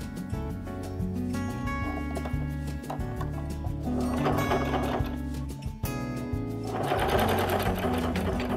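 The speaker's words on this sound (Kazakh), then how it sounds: "Тағы да тігіп аламыз, дәл солай." Sewing machine stitching patchwork quilt pieces together, a loud, fast mechanical chatter in steady bursts with brief pauses, close up and with no speech.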